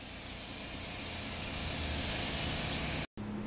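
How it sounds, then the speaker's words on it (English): A spray gun lays clear coat onto a motorcycle fairing during a Benelli and Ducati restoration, a loud close continuous hiss that cuts off abruptly near the end, followed by faint room sound. "So Glenn's got on the first coat of clear here."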